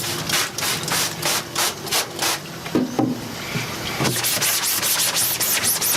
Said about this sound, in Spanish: aquí lo único que vamos a hacer es tallar y tallar unos minutos para que el líquido vaya penetrando